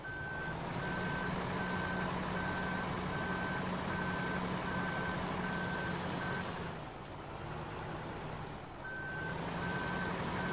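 Regular reversing beeps from a truck in Farming Simulator 17, evenly spaced and steady over a constant engine drone, pausing briefly twice before resuming.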